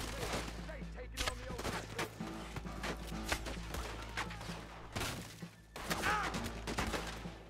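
Gunfire from a firefight in Red Dead Redemption 2, with dense bursts of shots crackling continuously over a steady low game rumble, with a voice talking now and then.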